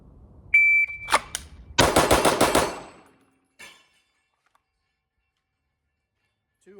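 Quick burst of pistol shots from a Staccato XC at a shooting range, several sharp cracks in rapid succession after a brief electronic beep, then near silence with a faint distant pop.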